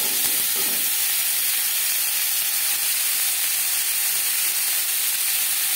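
Raw mango pieces fry with dry chilli in hot refined oil, giving a steady, loud, close sizzling hiss that runs unbroken throughout.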